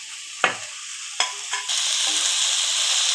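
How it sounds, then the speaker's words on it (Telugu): Boiled egg pieces dropped into frying tomato gravy, with a few distinct knocks and stirring scrapes followed by a louder, steady close sizzle. "ముక్కలుగా కట్ చేసుకున్న కోడిగుడ్డు వేస్తున్నాను"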